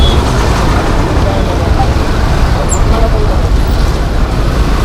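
Dense road traffic heard from a moving scooter on the road toward Pen, a steady loud broadband rumble and wind with no breaks, nearby engines blending into one continuous roar.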